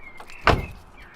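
A Ford Fiesta ST locking: a single sharp mechanical clunk of the central locking near the middle, with a faint electronic chirp and low hum before and after, no talk.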